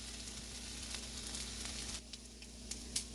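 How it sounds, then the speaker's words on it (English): Bacon fries in a skillet with a steady, soft sizzle and a few faint pops toward the end, heard alone without voices. "So I'm gonna let this bacon cook, y'all."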